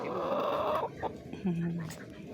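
A Rhode Island Red hen clucks and makes a drawn-out vocal call close by, with a person talking briefly amid the bird sounds.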